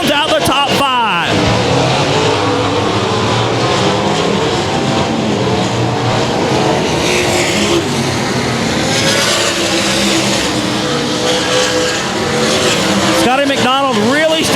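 Race cars roar around the dirt oval at Cotton Bowl Speedway, a dense, continuous wall of engine noise with passing cars sweeping by, while an announcer talks over the action.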